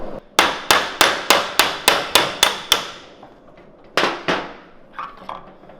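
Repeated metal hammer blows knock a slide-mechanism part off a hurricane-flooded limo golf cart: eight evenly spaced sharp clanks, a short pause, then a few more strikes, close and loud, with no talk.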